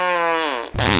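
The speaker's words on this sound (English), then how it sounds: "You farted again." A cartoon character's fart, a brief sputtering buzz that slides downward, then a louder noisy burst at the end, heard alone and close.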